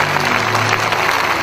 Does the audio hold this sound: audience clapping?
yes